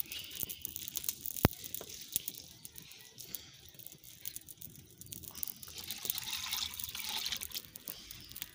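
Running water splashing and trickling into a container as moong lentils are rinsed, with small clicks and drips, fairly quiet and close.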